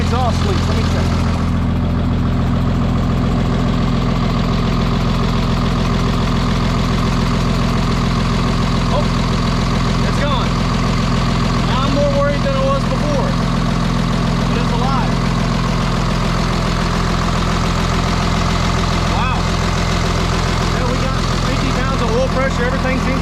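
A car engine with a freshly broken-in flat tappet camshaft idles steadily and smoothly, a continuous close, loud low rumble with no misfire, while people talk nearby.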